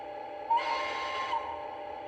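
A single sustained whistle from an LGB 27402 RhB Crocodile 6/6-1 model electric locomotive sounds for under a second, a bright steady tone over a quiet low hum.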